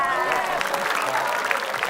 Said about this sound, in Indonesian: Usahanya kita kasih tepuk tangan.